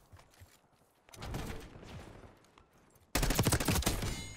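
Loud gunfire in the Black Ops 6 beta: a burst of shots crackles briefly, then dense rapid automatic fire erupts and keeps going to the end.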